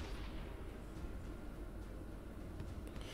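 A weapon shot in the artillery game Shellshock Live gives a low, rumbling blast that holds as a steady boom and a continuous roar for several seconds, with no one talking.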